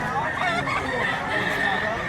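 A young rooster clucks amid a busy gathering of gamefowl in Mantalungon, Cebu, its calls partly buried beneath constant crowd chatter and nearby talking.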